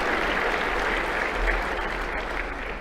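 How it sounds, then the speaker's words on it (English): A room of attendees at a touchdown club luncheon applauds for the event's sponsors, steady dense clapping lasting a few seconds at moderate level with no speech over it. "How about a round of applause for all those sponsors?"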